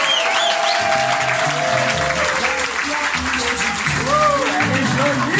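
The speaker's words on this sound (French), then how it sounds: "on va l'applaudir fort" A stand-up comedy audience claps loudly and steadily for a nervous first-time performer, a dense, unbroken wash of applause with voices calling out over it.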